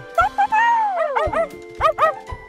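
A small cartoon dog yips and whimpers in short, bright bursts, a few quick barks and a rising and falling whine, close and clear, with a children's show setting.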